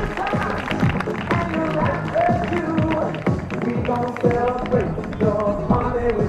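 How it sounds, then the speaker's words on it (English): Crowd applause for the winner at the finish of the 2010 Great Bay Half Marathon: sustained outdoor clapping with scattered cheers, mixed with nearby voices and footsteps, lasting steadily throughout. "One more round of applause for our 2010 winner, Mark Hudson from Reading"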